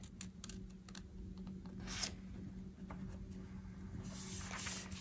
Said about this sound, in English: So I move it back on one side and run the tape.